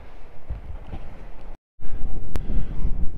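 Wind buffeting the microphone at an outdoor rifle range with a 1,200-yard platform, a steady low rumble with gusty swells, a brief dropout in the middle and a faint click.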